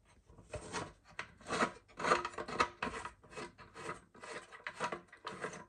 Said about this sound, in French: Hop, on dévisse et ça va venir tout seul.